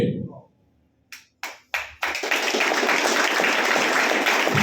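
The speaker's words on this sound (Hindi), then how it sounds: "आपने देखा अभी सर ने ताली बजाई" A few sharp claps from one man in a seated audience at a business seminar, close and distinct, then a broader wash of applause spreads and continues loudly.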